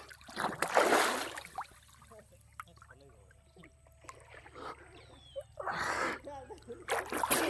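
A hand dips into water outdoors, making two brief splashy bursts about five seconds apart, separated by quieter trickling, with a voice talking faintly in between.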